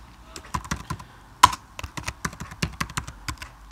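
Code is typed on a computer keyboard, producing a quick irregular run of close, crisp key clicks with one louder tap partway through.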